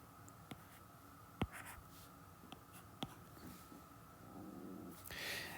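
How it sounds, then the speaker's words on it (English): A pen drawing axes on a board for a trigonometry lesson, faint scratchy strokes with a few sharp taps, close and quiet against low room hum. "I'm going to draw my x-axis"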